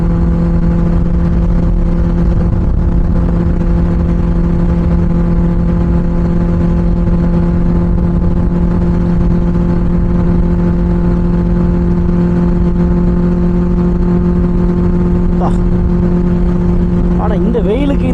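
A superbike's exhaust drones steadily and loudly while riding, a constant low engine hum with wind rush and a muffled voice over it.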